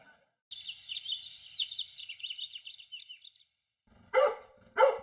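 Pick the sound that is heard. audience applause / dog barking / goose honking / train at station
dog barking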